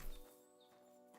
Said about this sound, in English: Whose horse are you?